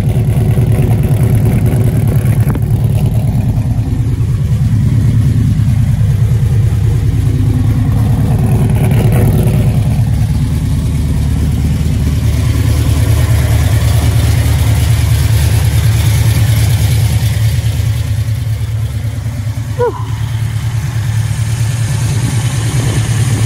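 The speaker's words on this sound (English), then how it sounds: "Let's listen to the exhaust." A 1972 Chevrolet Chevelle's exhaust runs close by, idling in a steady, loud rumble, with a couple of brief revs lifting the engine note before it settles back to idle.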